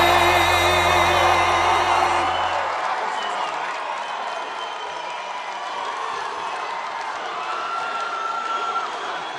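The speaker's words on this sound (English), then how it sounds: "This is a very rambunctious crowd." A large crowd at a Trump campaign rally in Tucson, Arizona cheers and applauds loudly as patriotic music fades out, leaving a dense, sustained roar of voices and clapping.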